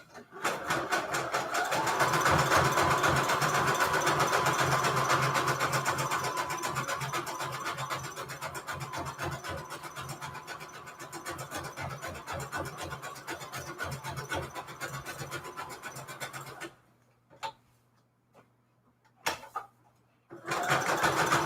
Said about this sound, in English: I got my sewing machine loaded with black thread, and I'm just going to, with the zigzag stitch, just sew all the way around really quickly.